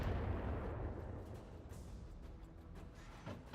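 A Kintaro mech fires its weapons at a building in BattleTech, producing a loud, low booming volley that rumbles on and fades, with a few sharper impacts toward the end and no voices.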